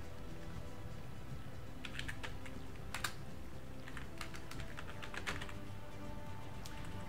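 Keys clack on a worn-out computer keyboard during a Robocraft gaming session, with scattered bursts of quick typing strokes over a steady low background hum and no talking.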